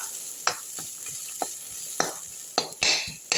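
Ingredients are dry roasted in a kadai for a drumstick leaf stir-fry, with a faint steady sizzle broken by repeated spatula scrapes and clinks against the pan at an unhurried rhythm.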